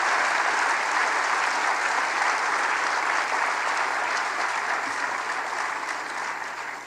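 Steady, dense applause from an audience at an inauguration ceremony for a new president of a bank group, sustained clapping without pause that fades slightly at the end.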